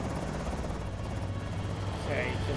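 A helicopter in the video game Project Zomboid flies overhead, a steady, loud low rotor drone that holds throughout with a slight swell near the end.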